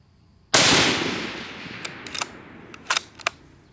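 A Remington SPS rifle fires a single loud, close shot at a 200-yard range, and the blast rolls off into a long echo. A few faint clicks and knocks follow.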